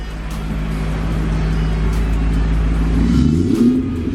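A BMW E39 M5 with its S62 V8, freshly back together after timing chain guide work, idles steadily with a deep, close low rumble that swells into a brief rev near the end.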